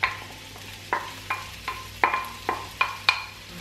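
Onion hitting hot oil in a wok, with a series of sharp sizzling bursts at irregular intervals, each one crackling and then fading under a low steady hiss, close up.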